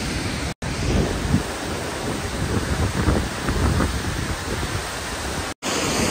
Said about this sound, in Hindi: कितना प्यारा झरना लग रहा है